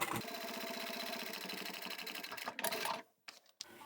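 Sewing machine running a steady, fast stitch along a narrow seam on a small fabric coin pouch, continuous and close for about three seconds before stopping, followed by a couple of brief handling knocks.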